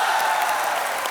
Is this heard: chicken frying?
no